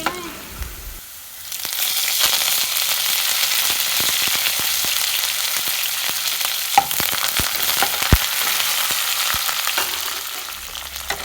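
Chopped garlic, green chillies and curry leaves sizzle in hot coconut oil, a steady loud crackling frying hiss that starts after a quiet second and runs on with occasional sharp pops and spatters.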